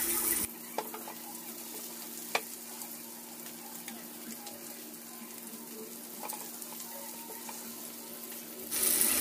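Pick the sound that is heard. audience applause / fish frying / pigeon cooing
fish frying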